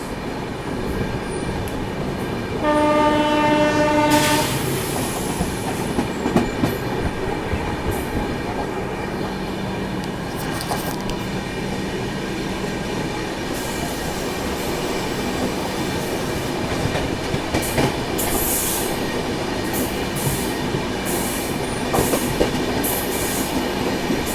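Two express trains on parallel tracks rumble steadily with a continuous roar of wheels on rails, a horn sounding briefly early on, the clatter building as they accelerate side by side.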